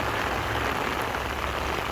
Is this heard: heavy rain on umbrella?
yes